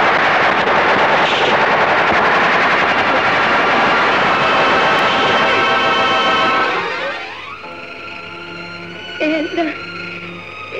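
Gunfire in a 1978 Pakistani movie scene: a loud, continuous rattle of automatic weapons mixed with a droning aircraft engine, fading after several seconds into quieter background sound.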